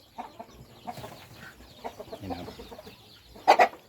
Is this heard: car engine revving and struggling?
no